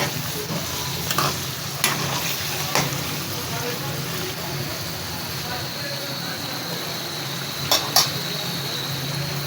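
Chicken for lemon chicken fries in a pan on high heat, a steady broad sizzle throughout with occasional sharp clinks of a stirring utensil against the pan.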